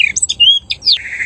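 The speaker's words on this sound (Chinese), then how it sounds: "鸟叫声的一个特效" Birdsong effect from a video editor's sound library: a quick run of bright chirps, trills and sweeping whistles from a songbird, close and clear, with no other sound.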